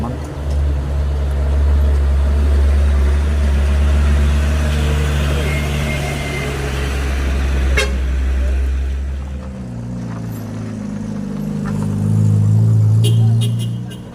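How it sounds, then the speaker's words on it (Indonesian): An orange Fuso truck labours up the steep Batu Jomba hill, its deep engine drone loud and steady throughout, with a voice talking over it and the engine note shifting toward the end. "ini ada Puso Oren ya teman-temanku, menanjak ya teman-temanku di Tanjakan Batu Jomba"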